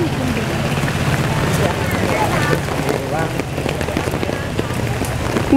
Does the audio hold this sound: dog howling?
no